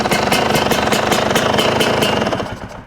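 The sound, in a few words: fuel-injected dirt bike engine starting and running cold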